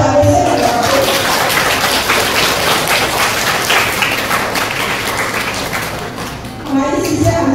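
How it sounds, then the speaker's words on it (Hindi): A church congregation gives loud, sustained applause at a Krusveer Diwas gathering in a Catholic church, a dense wash of clapping that swells and fades before a voice returns near the end. "तो हम दिल से उनको जोरदार ताली से धन्यवाद देते हैं।"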